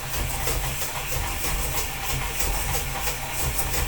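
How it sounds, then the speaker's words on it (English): Stand mixer locked down and beating two sugars together for chocolate chip cookies, a loud continuous motor whir with a steady pulsing churn, close up and without talk. "You're going to make sure that you lock down your stand mixer, and then you're going to go like this. You're going to mix it."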